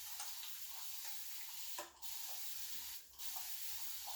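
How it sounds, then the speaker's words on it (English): Soft continuous hiss of a spray bottle misting water onto natural curly hair, a steady spray broken by two brief pauses, quiet and close with no speech. "spray the hair with water so it's all evenly wet"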